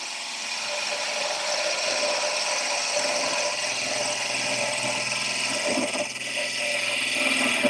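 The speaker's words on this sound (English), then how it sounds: "See if I can shape this a bit more with the bowl gouge." Wood being shaped with a bowl gouge on a spinning lathe, producing a steady, close, continuous whirring and scraping hum that holds a constant level throughout.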